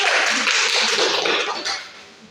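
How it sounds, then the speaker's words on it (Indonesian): Classmates give a short, loud burst of clapping for a student in a classroom lesson, dense for about two seconds and then tapering off. "Tepuk tangan untuk Markus."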